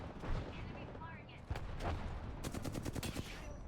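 Weapons fire in an Apex Legends match: scattered shots early, then a rapid string of sharp automatic bursts near the end, over a busy game soundscape.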